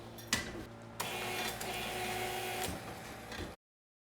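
A foot-pedal-operated bottle labeling machine runs in a whirring mechanical burst after a couple of clicks, holding steady for about two and a half seconds before stopping abruptly.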